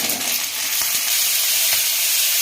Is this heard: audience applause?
no